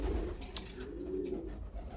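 Pigeons coo in a loft, a low soft murmur repeating steadily at moderate distance, with a brief sharp click partway through and no talk.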